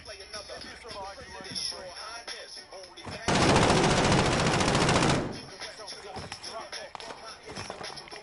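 Shooter video game gunfire lands a headshot as a loud burst of rapid automatic fire lasting about two seconds, set between stretches of talking voices before and after.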